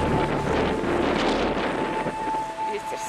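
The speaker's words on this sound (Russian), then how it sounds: "Ветер сильный." Strong wind roars and buffets the microphone in a steady, loud rush, with a faint tonal hum running underneath.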